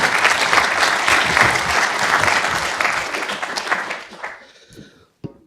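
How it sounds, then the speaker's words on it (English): A conference audience applauds in a dense, loud burst of clapping that fades out over a few seconds. "So round of applause,"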